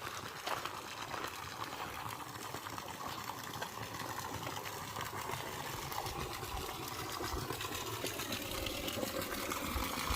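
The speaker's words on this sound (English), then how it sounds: "the water pouring out into this pool" Water pours steadily from an old tower outflow into a pool at Palmetto State Park in Texas, a constant, even rush with a soft bubbling texture at moderate distance.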